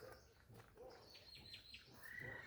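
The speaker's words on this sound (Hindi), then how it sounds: "पशु पक्षियों की चहचहाहट।" Morning birdsong over open farm fields, with faint, overlapping chirps and tweets in a diffuse outdoor background that is fairly quiet throughout.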